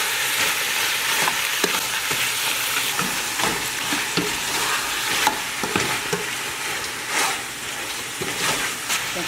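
Pork ribs cooking in a pot for a Cambodian ribs curry hiss in a loud, continuous sizzle, with scattered spatula scrapes and pops on top and no talk.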